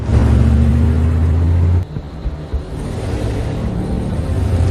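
A car engine rumbles loudly and steadily in an action-film chase behind a police vehicle, briefly dipping near the middle before the low roar builds again.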